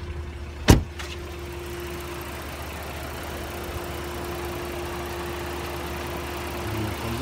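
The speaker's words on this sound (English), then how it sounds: "I'll let you hear the motor while it's running." A 2010 Jeep Liberty Limited engine idles quietly and steadily with a low, even hum, broken early by one sharp knock.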